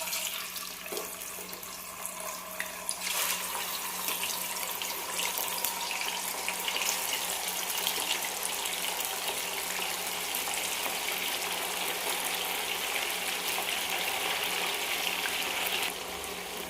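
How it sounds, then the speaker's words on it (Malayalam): Marinated tuna pieces fry in hot sesame oil for fish pickle, giving a steady, loud broadband sizzle that keeps up throughout, with a brief surge near the start and another near the end. "ചൂടായ നല്ലെണ്ണയിലേക്ക് പുരട്ടി വെച്ച മീൻ കഷ്ണങ്ങൾ ഇട്ട് കൊടുക്കാം."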